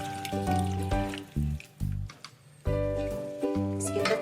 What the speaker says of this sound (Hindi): इसके अंदर हम पानी डालेंगे और इसे मिलाते जाएंगे।